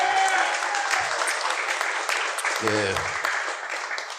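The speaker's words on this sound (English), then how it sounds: "Clap it up for yourselves," A comedy-show audience applauds itself, a steady wash of clapping with a brief spoken interjection and some crowd voices rising partway through.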